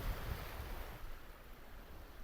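Surf washing onto Pensarn Beach on a slightly breezy day, a steady broad wash of waves with wind noise over the microphone, continuous and fairly loud, with no voices.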